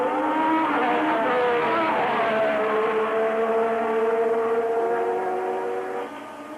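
Formula 1 cars, including a turbocharged Renault, race at the 1982 San Marino Grand Prix. Their high, droning engine whines overlap in several rising and falling pitches as the cars pass together, then fade slightly at the close.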